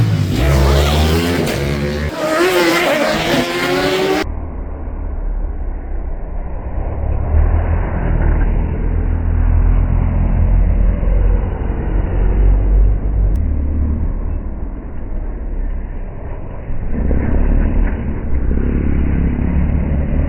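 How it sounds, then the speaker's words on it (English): Racing motorcycles roar past Ballaugh Bridge on the Isle of Man TT course, an engine howling close at first, then a sustained loud rumble of machines approaching and passing outdoors, swelling again toward the end. "the motorcycles actually hit a bump and both tires leave the pavement, fly through the air before they come down"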